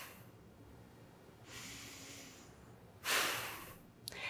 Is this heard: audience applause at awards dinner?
no